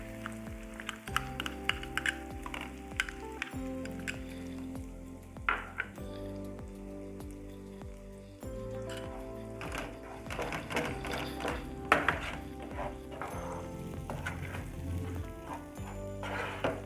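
Masala mixed with yogurt frying in a pan for Hyderabadi paneer masala, a soft steady sizzle broken by scraping stirs and spoon taps against the pan, close and quiet, with the sizzle thickening partway through.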